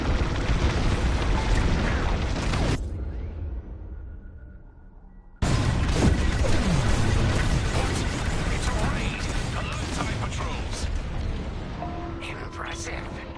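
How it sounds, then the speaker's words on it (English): Bombs dropping and exploding in a PS4 video game, with dense booming blasts that cut out briefly then resume loudly, alongside speech. "On my mark, it's bombs away."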